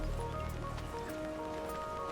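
Rainfall in the city-building game Endzone: A World Apart patters softly and steadily over a faint ambient music bed, with scattered light drop ticks and no speech.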